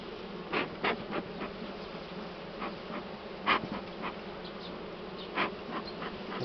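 Honey bees buzz steadily around the hive during a honey harvest, with several louder passes as individual bees fly close by, over a constant background hum.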